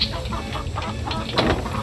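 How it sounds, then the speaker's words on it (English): Chickens in the Nancy Drew game The Secret of Shadow Ranch cluck in a steady run of short, close clucks over a continuous farmyard background. "I didn't want to have a chicken go all crazy on me"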